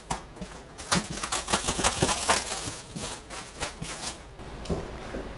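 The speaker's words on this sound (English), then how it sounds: "first we're going to cut this plastic wrap away with a knife" A knife slices and tears plastic wrap off a large cardboard shipping box for a travel powerchair, giving irregular close scraping and crinkling strokes with no talk.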